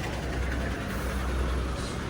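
A Tamil Nadu state bus bound for Kollam rumbles past, a broad, dense engine and road roar that holds steady and fairly loud for the whole moment.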